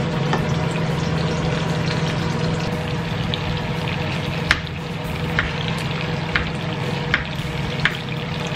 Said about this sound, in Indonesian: Sekarang kita goreng tempe.